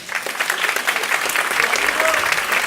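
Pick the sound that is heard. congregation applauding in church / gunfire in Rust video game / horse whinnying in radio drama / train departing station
congregation applauding in church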